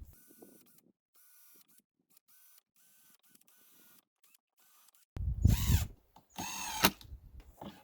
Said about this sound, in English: We'll just screw it in place